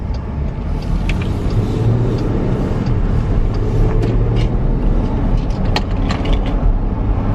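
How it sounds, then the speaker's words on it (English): A car approaching and turning nearby, a steady, loud rumble of engine and road noise with faint mechanical rattles, no voices. "here I was waiting for this car to come and they're turning"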